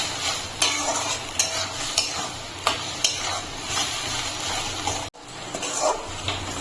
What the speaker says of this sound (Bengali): এখন আলুটা দিয়ে মশলাটাই কষিয়ে নিচ্ছি